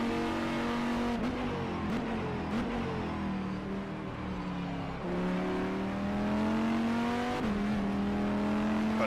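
GTE race car engines in the rFactor 2 racing game at Sebring scream through rising gear pulls, with clear upshifts around the middle and near the end of a loud, continuous run.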